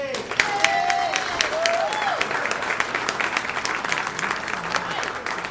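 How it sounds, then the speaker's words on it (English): Warm audience applause in a club welcoming a jazz musician at a musical tribute event, steady crowd clapping with a few brief whistles and voices mixed in. "Thank you very much for that warm round of applause"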